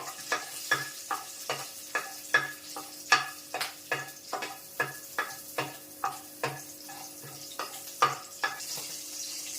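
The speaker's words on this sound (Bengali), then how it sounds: "এবার কালো জিরে আর কাঁচা লঙ্কা ভাজা যখন হয়ে যাবে, সুন্দর একটু গন্ধ ছাড়বে" Nigella seeds and four green chillies fry in a pan for a spicy Bengali dish, a soft sizzle under a steady, regular tapping of the spoon against the pan, roughly two strokes a second, close and clear.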